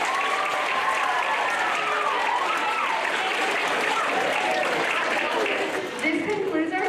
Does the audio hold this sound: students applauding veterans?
yes